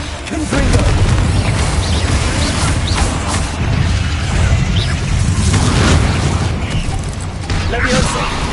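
A Confringo fire spell bursts in Hogwarts Legacy, one of several loud booming blasts over a dense rumble of battle effects as a voice shouts spell names throughout.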